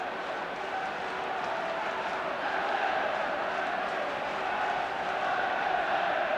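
A football crowd roars steadily at a 1977 League Cup Final replay between Aston Villa and Everton, a dense, continuous swell of stadium noise that holds loud throughout with no break.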